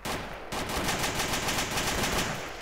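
Rapid automatic gunfire in the video game DayZ: a dense, loud burst of closely spaced shots that starts abruptly and continues steadily to the end.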